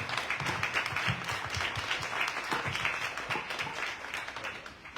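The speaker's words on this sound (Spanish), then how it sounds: "le pido un aplauso y un reconocimiento" Applause from an event audience in a city setting, dense clapping that stays steady and fairly loud across the whole stretch before tapering slightly at the end.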